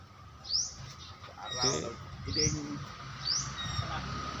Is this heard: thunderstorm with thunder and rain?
no